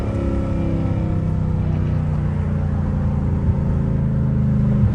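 A Hellcat Redeye's supercharged engine whines and drones loudly and continuously, holding a steady pitch throughout with a slight swell toward the end.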